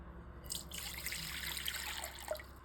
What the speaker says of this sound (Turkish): yoğurma kabımızın içine 2 su bardağı ılık su alıyoruz